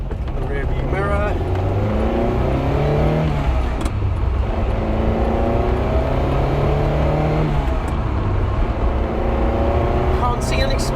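A Ferrari with a suspect, smoking engine accelerates on the road, its engine note climbing in repeated rising sweeps through the gears, loud and close, with cabin noise around it.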